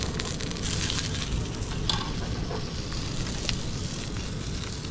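Food frying in a pan outdoors, a steady close sizzle and crackle with a few brief pops throughout.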